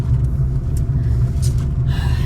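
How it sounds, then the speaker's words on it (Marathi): A Tata Harrier SUV drives along a road with a steady, loud, low rumble of engine and tyre noise heard from nearby, without talk. "टाटा हॅरियर."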